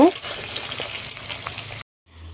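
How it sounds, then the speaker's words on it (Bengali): Chopped onion and garlic fry in a pan with a loud, bright sizzle from the start and some stirring. The sound cuts off abruptly near the end, leaving a quiet hum. "এই কেটে রাখা পেঁয়াজ আর রসুন পেঁয়াজ পেঁয়াজ আর রসুন আমি ভালো করে লাল লাল করে ভেজে নিব"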